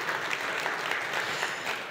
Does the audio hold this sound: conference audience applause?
yes